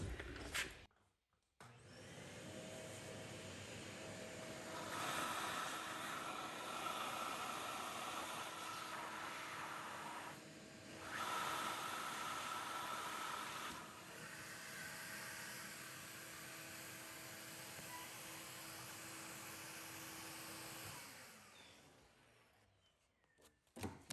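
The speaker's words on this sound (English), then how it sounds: "And we can put a vacuum on this side." A shop vacuum runs steadily for about twenty seconds, pulling a string through a hole while wiring a handlebar on a 2022 Indian Pursuit motorcycle, with a brief dip in the drone midway before it shuts off.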